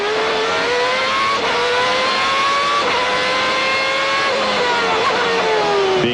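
A Williams Renault Formula 1 car engine in the racing video game Formula Grand Prix Circuit drones at low revs, a steady harmonic hum that rises and dips slightly, loud and continuous with no talk.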